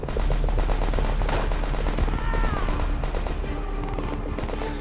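Rapid rifle and machine-gun fire crackles nonstop in the Call of Duty: World at War Stalingrad battle, loud and dense, with overlapping shots and distant booms forming a steady wall of combat noise.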